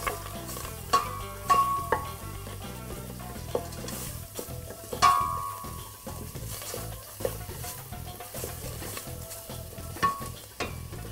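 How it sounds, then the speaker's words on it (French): A coriander and concentrated tomato mixture sautéing in a pan, with a steady sizzle and frying crackle broken by repeated scraping and clinking of a spoon as it is stirred close by. "mettre un peu de coriandre au début et faire revenir le tout"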